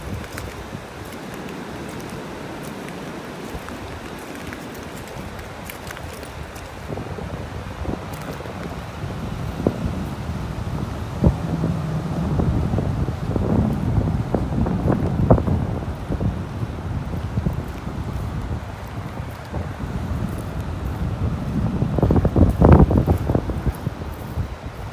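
Wind gusting on a beach in North Naples, Florida, a steady buffeting rush on the microphone with stronger gusts swelling midway and near the end, surf faintly beneath.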